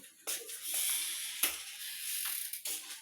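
Spray bottle being squirted, several short hissing bursts at uneven intervals, close and fairly loud, with brief quiet gaps between them.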